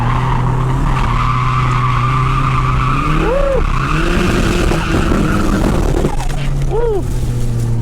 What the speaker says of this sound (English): Why is my turbo so loud?